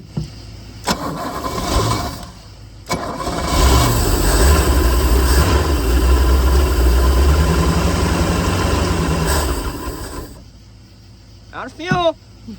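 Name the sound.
boat engine running after starting without choke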